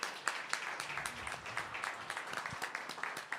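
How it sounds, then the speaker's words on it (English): Steady applause from a debate audience, dense overlapping claps filling the whole stretch at moderate, even loudness from a distance. "Let's give them a round of applause."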